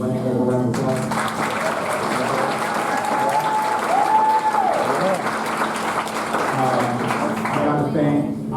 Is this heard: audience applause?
yes